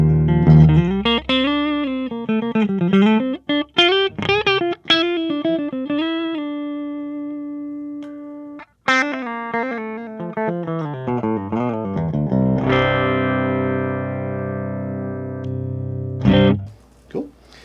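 An electric guitar plays through a Joyo preamp set to its Twin Reverb clean channel, a loud, close run of clean melodic phrases and bends that ends on long ringing chords.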